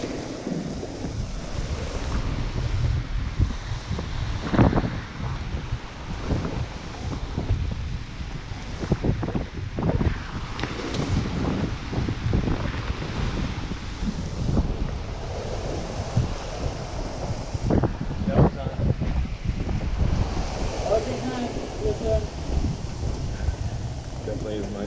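Gusty wind buffeting a sailboat during a rainstorm on an Atlantic crossing, mixed with surging waves and wind rumble on the microphone, with voices speaking now and then over the steady roar.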